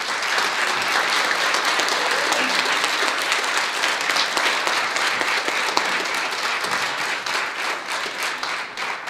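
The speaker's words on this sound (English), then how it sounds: "let's give them a really amazing round of applause" A live audience gives a sustained round of applause for the landscape cleanup volunteers, with dense clapping holding steady throughout and tapering slightly near the end.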